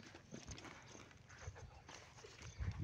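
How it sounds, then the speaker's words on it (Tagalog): A horse walking on a rural farm trail, hooves clopping irregularly at a moderate distance, with rustling and faint background noise. "Yan, kabayo."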